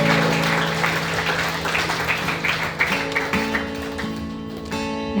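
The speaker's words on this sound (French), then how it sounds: "Est-ce qu'on peut applaudir notre Sauveur?" A congregation claps during a French church baptism service, a dense, continuous patter of hands mixed with sustained instrumental or sung tones carrying on throughout.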